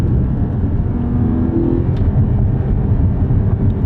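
Porsche 718 Cayman GTS 4.0 engine droning steadily while short shifting, a loud continuous low rumble inside the cabin with no obvious revving peaks.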